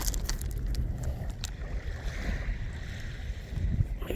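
Lake Michigan waves wash steadily onto a rocky shoreline, a continuous close rush of water with low surf rumble and soft wind, no voices over it.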